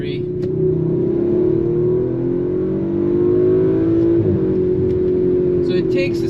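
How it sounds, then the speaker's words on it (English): A 2019 Audi RS5 Sportback (B9) with a twin-turbo V6 accelerates, its engine drone steady and loud, rising gradually in pitch over several seconds with road noise beneath and no talk. "It definitely takes a second for the turbos to spool up."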